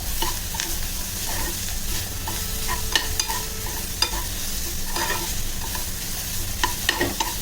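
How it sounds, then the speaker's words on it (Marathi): Steady sizzling of ground Malvani masala paste frying in a hot pan on high flame, with scattered clicks and scrapes from a spatula stirring throughout. "मोठ्या गॅसवरच मी परत आहे वाटण"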